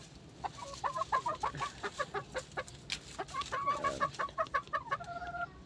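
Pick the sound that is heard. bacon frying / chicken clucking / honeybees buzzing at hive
chicken clucking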